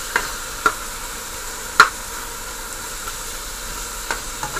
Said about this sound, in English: So let these fry up a little, then I add the eggplant, bacon,